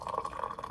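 Hot water poured into a jar, a brief, steady and faint liquid stream.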